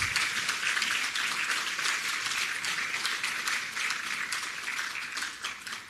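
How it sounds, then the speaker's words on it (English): An awards-ceremony audience applauds the educators present, a dense, steady wash of clapping across six seconds, filling the room without talk over it. "Please give them a round of applause."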